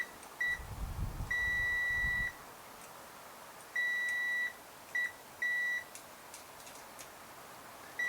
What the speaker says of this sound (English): it's got a nice loud beeper and it's latching